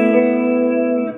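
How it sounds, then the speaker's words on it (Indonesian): Short sustained guitar chord through a Yamaha THR Mark II amp on its boutique setting, mid-heavy and warm, holding steady for about a second before dropping off. "Sama kita arahkan ke yang butik."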